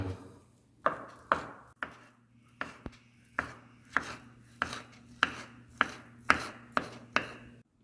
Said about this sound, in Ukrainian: Тобто будемо подрібнювати отак авокадо